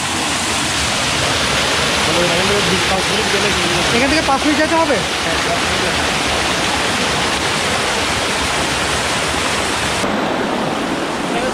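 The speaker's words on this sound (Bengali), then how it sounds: "এটা হচ্ছে চিংড়ি ঝর্ণার ঝিরি, এখান থেকে আর একটু সামনে এগোলে চিংড়ি ঝর্ণা" Water of a stream rushing over rocks near Chingri waterfall in Bandarban, a loud, dense, continuous roar throughout, with someone speaking briefly over it.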